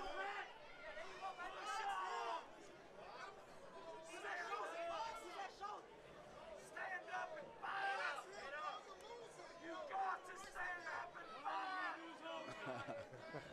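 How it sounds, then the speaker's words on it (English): A crowd at an Aries Fight Series MMA bout chatters and calls out throughout, a busy hubbub of many voices with rising shouts of encouragement, fairly loud and continuous. "I'm loving the crowd."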